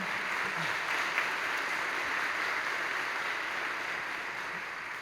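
Audience applause at the Bonita High School spring concert for a student drummer, a broad, smooth wash of many hands clapping, steady and unbroken across several seconds, somewhat distant and without talk.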